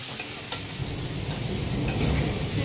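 Chopped tomato hits hot spiced masala in a pan and sizzles steadily while being stirred, close and fairly loud, with no voices over it.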